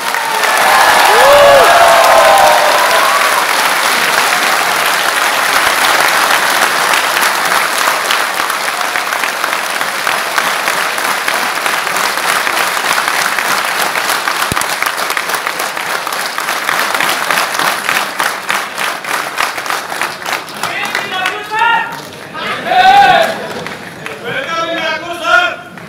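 A large crowd at a public event in Nagpur breaks into loud, sustained applause for Ravish Kumar, with dense clapping mixed with cheering and voices, swelling into rhythmic crowd chanting near the end.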